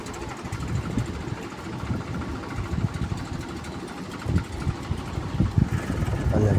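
A tractor engine runs with a steady low rumble on a farm field during peanut sowing, with irregular louder knocks and bumps near the end.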